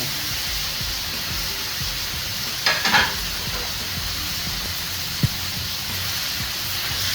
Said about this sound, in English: Oh man, that's sizzling though.